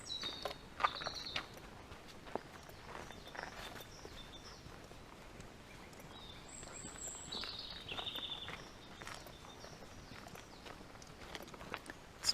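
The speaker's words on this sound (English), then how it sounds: "Just going to be quiet for a minute so you can hear the sounds of the birds." Birds chirp faintly in short, scattered calls along a walking trail on the Camino del Norte, heard over steady crunching footsteps and outdoor ambience.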